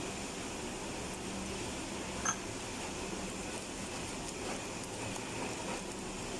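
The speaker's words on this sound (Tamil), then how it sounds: "இங்கே நல்லா சரியான மழை வேறு" Steady, even hiss of heavy rain falling outside during home cooking, a constant wash of drops with no pauses and no talk over it.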